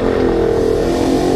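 A Yamaha NMAX v1 scooter runs after its torque drive bearing was replaced, giving a smooth, steady engine drone at close range for a brief moment with no talk over it.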